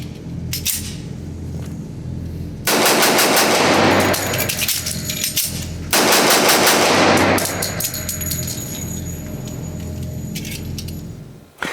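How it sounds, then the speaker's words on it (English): Sig Sauer 1911 Nightmare pistol fired rapidly at an outdoor range: a first burst of loud, sharp shots, a magazine change with metallic clicks, then a second fast string of shots, close and dominant, trailing off with a final click. "How quick can I shoot this gun, drop the magazine, get a new one in there, and get the gun back in action?"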